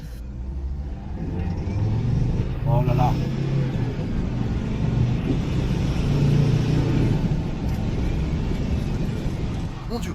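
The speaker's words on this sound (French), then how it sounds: "C'était une voiture." A car rumbles past nearby in a village at night with a low engine drone that swells and fades, while a person briefly exclaims over the noise.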